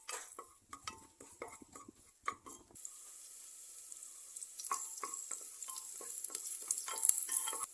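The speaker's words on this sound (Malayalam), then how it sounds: "വെളിച്ചെണ്ണ നന്നായിട്ട് ചൂടായി വരുമ്പോൾ ഒരു 3 ചെറിയുള്ളി ചെറുതായിട്ട് അരിഞ്ഞ് നിന്നിട്ട് ഒന്ന് വഴറ്റാം" Chopped shallots sautéing in hot coconut oil, with a light crackling sizzle and a series of sharp utensil taps and scrapes against the pan, quiet and close, with no speech.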